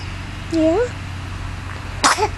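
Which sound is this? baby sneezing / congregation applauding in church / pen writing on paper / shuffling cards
baby sneezing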